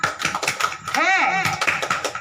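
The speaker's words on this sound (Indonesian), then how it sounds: "Tepuk hebat dulu ya." A group of women in a training session performs a rhythmic 'tepuk hebat' clapping chant, with sharp hand claps mixed under loud group voices chanting and calling out.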